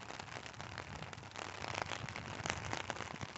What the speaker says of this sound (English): Rain hitting the water.